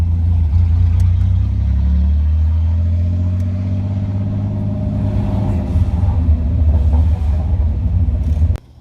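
Camaro engine on its first drive in years, a deep continuous rumble that rises and falls through gentle revving as the car rolls around the block, loud and close, ending suddenly.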